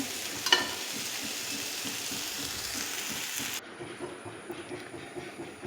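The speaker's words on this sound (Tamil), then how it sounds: "வெண்டைக்காயில் இருக்கிற வழுவழுப்பு போகிற வரைக்கும் வதக்கணும்" Okra sautéing in a pan, a steady broadband sizzle with soft stirring scrapes, close by, easing somewhat quieter near the end.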